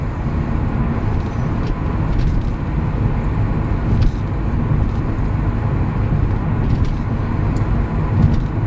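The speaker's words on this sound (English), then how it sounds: "Now the tires are really old. They're a little dry, a little noisy." A 1992 Toyota Supra on the road with old, dry tires, giving a loud, steady rolling roar of tire and road noise with engine drone underneath, continuous with no talk.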